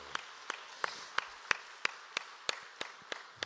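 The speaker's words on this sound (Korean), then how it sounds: "하나님께 영광의 박수." Sparse, rhythmic applause from a church congregation at a special early-morning prayer service, individual claps landing roughly every third of a second, fairly faint and slightly distant.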